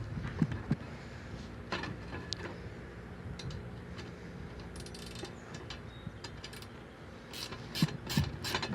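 A ratchet wrench tightens bolts on a gridder bed dibbler, giving quiet intermittent clicking bursts with some metallic knocks in between, heard close up.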